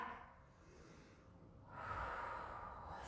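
A single audible breath drawn in through the nose during a yoga class, soft and close, rising into a breathy rush partway through, with no talking.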